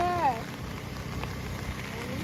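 Steady rain patters on surfaces on a night out in Chennai, a dense even hiss that runs throughout with a brief tonal sound at the start.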